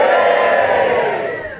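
Comedy club audience in Bognor Regis cheering loudly, a dense crowd roar that fades slightly toward the end, with no talk over it.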